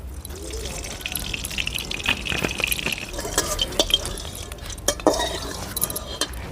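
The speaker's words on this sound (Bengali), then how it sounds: "কড়াইতে দিয়ে দেবো সর্ষের তেল" Mustard oil is poured into a hot wok over a village cooking fire, a steady liquid trickle with light drips and small clinks, heard close up for several seconds.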